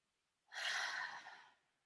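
A single long breath during a yoga exercise, a close, airy exhale lasting about a second, soft and breathy with no talk over it.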